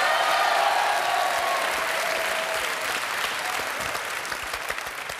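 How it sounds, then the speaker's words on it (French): A French live television studio audience applauds steadily and loudly throughout, a dense clapping that fades slightly toward the end. "Vous avez le droit de l'applaudir, tout à fait."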